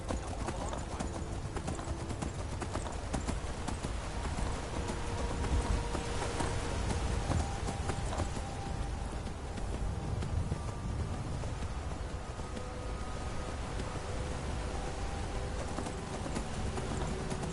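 Rapid, rhythmic hoofbeats of a horse in the video game Skyrim clop steadily throughout at a gallop, with a voice speaking faintly in the background.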